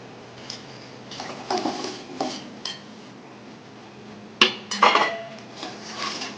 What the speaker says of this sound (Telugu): ఇప్పుడు మనం వాటర్ పోసిన గిన్నెలకి మనం బెల్లం తీసుకుందాం